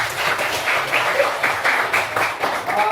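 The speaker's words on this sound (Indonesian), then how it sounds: "Tepuk tangan buat kalian semuanya." Students applaud in a classroom, a lively, close, dense patter of clapping hands that runs steadily without pause.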